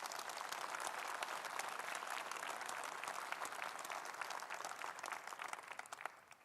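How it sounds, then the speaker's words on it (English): A conference audience at the 2017 Conservative Party Conference in Manchester applauds in a sustained, dense round of clapping, slightly distant in a large hall, thinning toward the end. "Let's give them a round of applause for their contributions."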